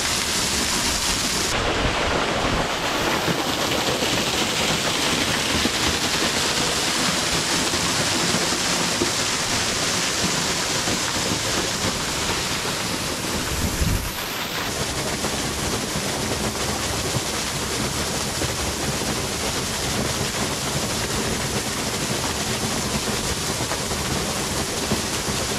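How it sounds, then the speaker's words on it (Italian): A small hidden waterfall, Cascata Ortanza, pours in a steady, broadband rush close by, continuous for the whole stretch with only a brief dip midway and no voices. "Ah, una piccola cascatina, che carina."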